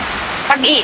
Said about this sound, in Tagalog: pero sobrang lakas ng ulan